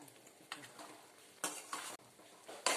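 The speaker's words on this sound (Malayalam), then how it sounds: "ഇനി നമുക്കതിലേക്ക് വറുത്ത് വെച്ചിരിക്കുന്ന സോയ ചങ്ക്സ് ഇട്ട് കൊടുക്കാം" Fried soya chunks drop into masala in a pan and get stirred, giving soft clinks and scrapes of a spoon against metal with a few louder knocks and light sizzling, close and fairly quiet.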